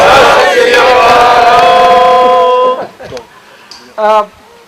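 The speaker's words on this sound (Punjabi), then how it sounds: "ਮੈਂ ਚਾਹਾਂਗਾ ਕਿ ਸਾਰੇ ਜਾਣੇ ਜੈਕਾਰਾ ਬੁਲਾਈਏ ਜੋ ਬੋਲੇ ਸੋ ਨਿਹਾਲ" A crowd at a Sikh community picnic in Canada shouts the jaikara battle cry in a loud, sustained collective roar of many voices. It fades, followed by scattered voices and one more short burst of shouting near the end.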